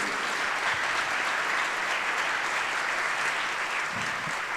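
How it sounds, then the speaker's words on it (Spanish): An academic panel audience gives sustained applause to welcome the panelists, a continuous, even roar of many hands clapping that holds steady throughout. "Yo les pido un aplauso para recibirlos a estos académicos"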